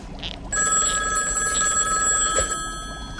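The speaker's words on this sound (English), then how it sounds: "A ringing phone." A telephone bell rings in a bright, steady electronic trill that starts abruptly, holds loud and close for several seconds, then cuts off, with no talk over it.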